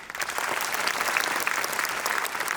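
Audience applause at a World Trauma Week program at AIIMS Rishikesh, a dense, steady wash of many hands clapping that holds at an even level throughout, with no voices rising above it.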